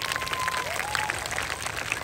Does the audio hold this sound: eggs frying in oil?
no